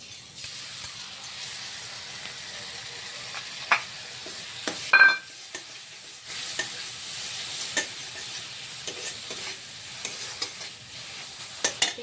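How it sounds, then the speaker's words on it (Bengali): Ground fresh tomato paste added to hot oil for a Bengali katla fish kalia curry, sizzling and hissing steadily in a frying pan while a spoon scrapes and stirs in irregular strokes, close up and without talking. "এবার এখানে টমেটোর আমরা বেটে রেখেছি একখানা বড় সাইজের, সেটা আমরা দিয়ে দিলাম।"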